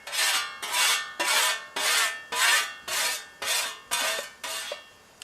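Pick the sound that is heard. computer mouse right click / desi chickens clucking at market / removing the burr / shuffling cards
removing the burr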